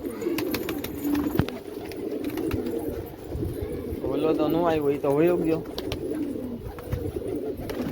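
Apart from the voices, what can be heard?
pigeons cooing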